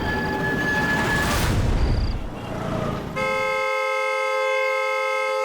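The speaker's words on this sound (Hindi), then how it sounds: "अरे कौन है ये नॉन स्टॉप हॉर्न बजा रहा है?" A car horn blares in a steady, unbroken tone, loud and close, following a stretch of rumbling traffic noise, and it keeps sounding without pause to the end.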